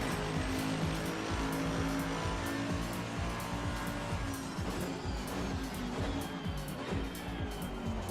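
A Mercedes race car in a driving video game, set up with extreme caster settings, gives a continuous loud engine drone with tire squeal through most of the stretch.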